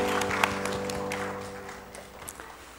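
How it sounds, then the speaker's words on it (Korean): Applause from a church congregation during a service, a steady wash of many hands clapping over a low organ or keyboard drone that slowly fades. "박수로 축복하겠습니다."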